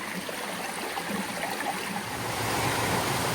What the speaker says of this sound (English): Well, here's a water crossing.